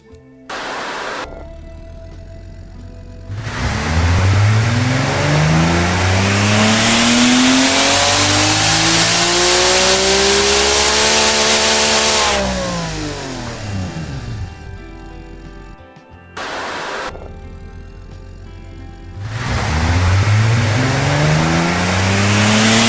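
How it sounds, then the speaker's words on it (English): Car engine in the tycoon game Automation revving through two full pulls, a loud rising wail climbing in pitch then falling away, with short idle gaps between runs and no talking. "doing 2 engine pulls now. One looking at this beautiful engine, one looking at the graph. So yeah, let's see what it sounds like"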